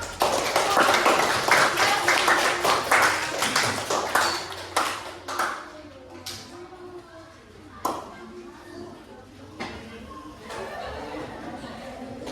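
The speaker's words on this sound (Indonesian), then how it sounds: "Tepuk tangan dulu" Children in an elementary school classroom clap together in a loud burst that fades into scattered claps, with chatter and a teacher's voice over the room.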